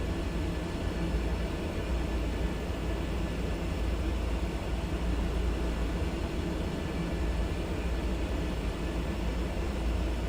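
A Cessna F406 Caravan II twin-turboprop in Microsoft Flight Simulator 2024 gives a steady, loud engine roar with broad rushing noise that stays constant throughout, with no talk over it.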